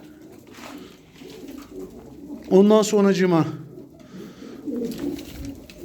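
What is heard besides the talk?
pigeons cooing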